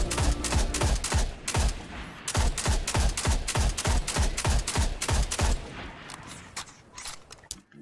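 The MIDA Multi-Tool rifle from Destiny fires in a quick, even burst of muffled, suppressed-sounding shots, about four per second, before stopping and fading.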